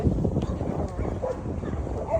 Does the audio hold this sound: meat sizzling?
no